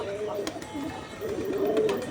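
Pigeons on a rooftop loft coo softly and steadily at close range, their low throaty calls repeating over a faint murmur of background voices.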